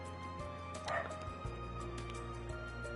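A pet dog barks somewhere in a home, a short muffled yip under steady background hum, heard once at a distance.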